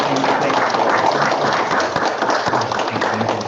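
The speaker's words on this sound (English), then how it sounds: "Can we give one last, but not final, round of applause for our board" A round of applause for the board at a school district board of education meeting, steady dense clapping throughout, moderately loud with no talk over it.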